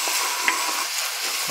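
Chopped onion, garlic, ginger and green chilies stirred as they fry in a pan for samosa filling, a steady close sizzle with scraping strokes of the spoon running throughout.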